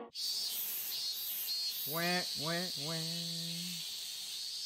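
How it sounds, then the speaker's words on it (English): Summer cicadas buzz in the Like a Dragon Gaiden video game, a constant high, shimmering drone with pulsing bursts. A few short voiced calls rise briefly through the middle. "Summer, you don't say. I hear cicadas everywhere."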